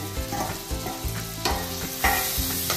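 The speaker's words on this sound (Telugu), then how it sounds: "టమాటో వేసేసి దాని తర్వాత చికెన్ వేసేసి" Tomato and chicken fry in a pan for a home-cooked chicken dish, giving a moderate sizzle with repeated thumps and scrapes of stirring at an uneven rhythm.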